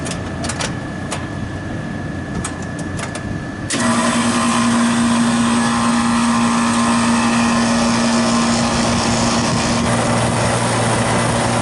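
A refrigeration compressor starts up partway through and runs steadily with a constant hum while pumping down the system during a 13-year-old drier filter change, after a quieter stretch with a few light clicks.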